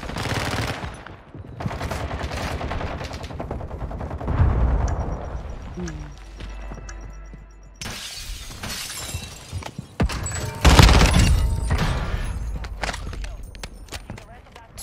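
Rapid bursts of automatic gunfire and sharp single shots from Call of Duty: Warzone 2 crackle loudly, mixed with impacts and shattering debris, while people talk over the action.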